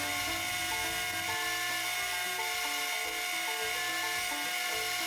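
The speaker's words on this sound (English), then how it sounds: "this is a used up coarse Scotch-Brite belt, so it actually puts a really good satin finish on the blade" A belt grinder runs a worn coarse Scotch-Brite belt against a knife blade, putting a satin finish on it. A steady faint whirring hum plays throughout with an even hiss of abrasion and slight wavering in the low drone.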